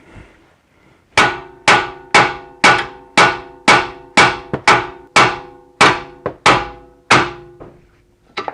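Heavy hammer blows strike the tapered bolt of a BMW E46 front lower control arm, about a dozen loud, ringing metallic hits in a steady rhythm, each decaying quickly, with a lighter tap at the end.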